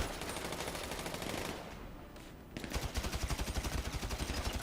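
Video game gunfire in GTA Online's Doomsday Heist, a rapid rhythmic automatic burst that pauses briefly and then resumes as steady regular shots, fairly faint in the mix.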